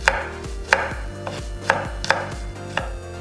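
A knife slices whole garlic cloves into 0.3 cm pieces on a cutting board, making five or six sharp, evenly spaced taps. The cuts are close and clear, with no talking.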